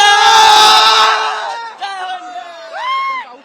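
Cricket fans at Team India's victory parade near Wankhede Stadium let out a loud burst of cheering and screaming that fades after about a second. Scattered shouts and voices follow.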